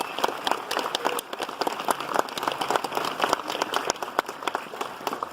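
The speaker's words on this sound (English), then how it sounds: "Let's have a nice round of applause for Rich in Albuquerque." Applause from the audience at a Memorial Day ceremony at the Veterans Memorial in Albuquerque, New Mexico: many dense clapping transients, moderately loud and steady throughout, with no talk over it.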